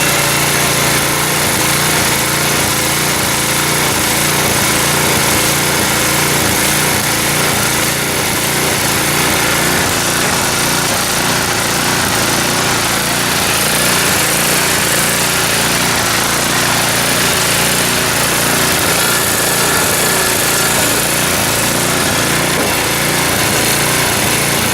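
Neglected snow blower engine running on its small gasoline motor, a loud, steady, buzzing roar that holds for the whole stretch with slight wavering, close by and without voices.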